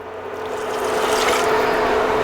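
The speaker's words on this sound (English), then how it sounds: "Let's add 1/2 cup of white wine." White wine poured into a pan of rice and butter, a swelling close hiss and bubbling sizzle that builds and holds steady, with no talking.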